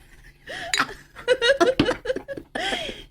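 Glasses clink together in a toast, with a few sharp chimes rising among laughter and lively voices.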